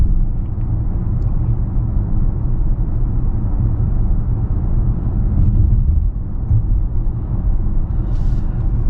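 A Mercedes-AMG S 63 gives a deep, loud, continuous exhaust rumble while driving, steady throughout with no talk.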